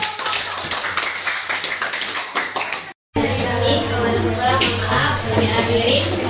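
Classroom clapping during a teaching session, a run of quick sharp claps with children's voices mixed in, a brief dead gap, then fuller clapping and chatter resuming.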